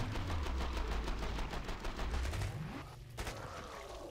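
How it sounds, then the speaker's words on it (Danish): An MP5 submachine gun in the Killing Floor video game fires a rapid, steady automatic burst for under three seconds and then cuts off, loud and close with no talk over it. "der er 64 skud med en MP5 her."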